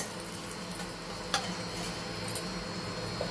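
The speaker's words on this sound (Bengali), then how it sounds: "এই তেলের মধ্যে আমি কালো জিরে ফোড়ন দিয়ে দিচ্ছি হাফ চামচ আর একটা শুকনো লঙ্কা দিয়ে দিলাম" Nigella seeds and a dried red chilli crackle in hot oil, a steady soft frying hiss with a couple of sharp clinks of a spoon or pan, no talking.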